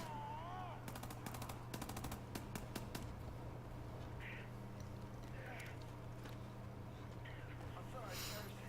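A machine gun turret fires in the video game Wolfenstein: The New Order, with a quick rattling burst of rapid shots early on. The shots are faint and distant, followed by quieter game ambience and a brief voice at the start.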